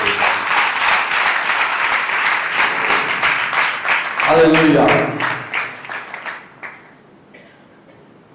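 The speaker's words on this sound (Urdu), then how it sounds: "اب زوردار تالیاں اپنے خدا میں دو" Loud applause from a church congregation fills the first five seconds, dense clapping over scattered voices, with a shout of praise near the middle before the clapping thins and fades out.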